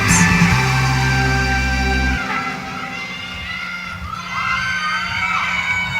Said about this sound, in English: Keep those claps going for your all-academic team.